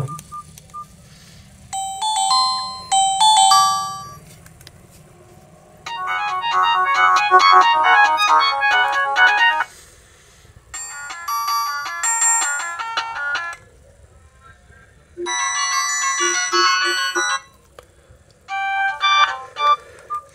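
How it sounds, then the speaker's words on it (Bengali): A Symphony Fire 60 keypad phone plays its ringtone loudly and up close: bright, melodic electronic tone phrases come in about five bursts separated by short quiet gaps. "চলুন দেখি যে ফোনটির রিংটোন কেমন ছিল"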